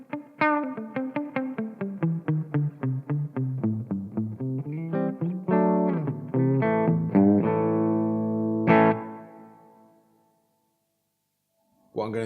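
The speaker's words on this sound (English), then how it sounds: "So first up, you've got a studio reverb." Electric guitar through a Marshall MG50CFX amplifier with its studio reverb set high: a run of picked notes and strummed chords, each ringing out in a lush wash that decays into silence before a final chord.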